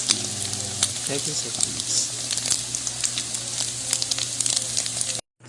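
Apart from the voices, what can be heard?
beef loaf with scrambled egg frying in a pan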